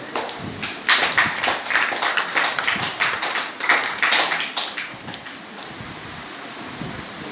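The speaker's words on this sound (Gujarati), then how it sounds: "એટલે આપણે તાળી પાડવાની છે." Applause from an audience at a children's Ramayana quiz prize ceremony, a burst of many hands clapping that swells quickly, stays lively for a few seconds, then thins out and fades.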